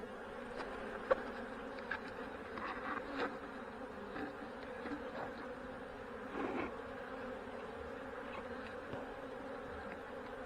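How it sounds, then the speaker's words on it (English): A dense, steady drone of many honey bees buzzing up close as they are shaken from hive boxes, with occasional louder passes and light knocks against the hum. "Now I'm gonna shake. See the bees that are still in the boxes. There's a lot of bees in there."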